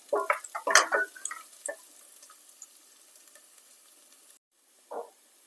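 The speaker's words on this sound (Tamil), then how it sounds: "சின்ன வெங்காயத்தை போட்டு வதக்கிக்கலாம்" Chopped small onions drop into hot oil with a burst of close crackling and spattering that settles into a faint, thin sizzle. A brief silence follows, then one short crackle near the end.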